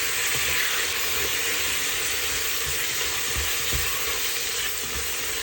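Chopped tomatoes fry in biryani masala and get stirred, giving a dense continuous hiss and sizzle with occasional low knocks of a spoon against the pot, no voices.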